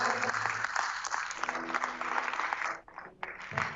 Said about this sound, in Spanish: Vamos a darle un aplauso a nuestro Dios bendito.